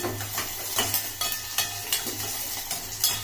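Onions brown in oil in a pan, a close sizzle broken by regular spoon strokes scraping and stirring, roughly two or three per second, with no voices.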